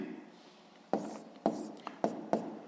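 A pen scratches out a sixth-grade maths solution by hand in four short, distinct strokes after a quiet stretch, with faint murmured speech underneath.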